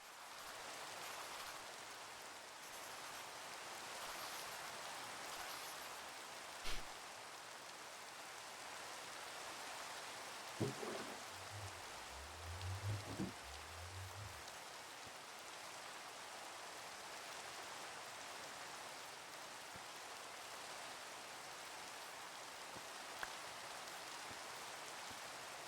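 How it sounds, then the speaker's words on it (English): Rain falls steadily in a Minecraft game, an even soft hiss throughout, with a few brief low knocks and thumps breaking through in the middle. "Ooh, there's rain."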